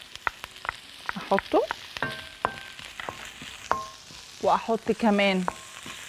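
Onions and garlic fry in a pan with a constant soft sizzle beneath someone talking intermittently, with utensil taps and clinks scattered through.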